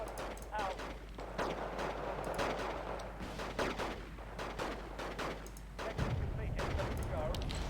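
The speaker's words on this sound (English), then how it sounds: "We have eyes on some firing artillery batteries right here." Artillery batteries in the Wargame Red Dragon strategy game fire in dense, repeated booms and cracks, mixed with rattling gunfire throughout, loud and continuous, with faint voice-like game sounds underneath.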